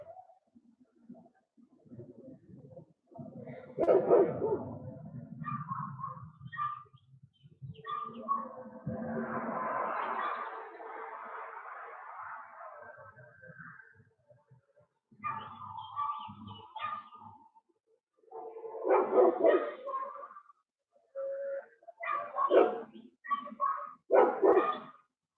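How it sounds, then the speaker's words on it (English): Dogs bark in the distance at a nearby dog park. The barks come in scattered bursts and are faint, with birds also audible. "I'm next to the dog park"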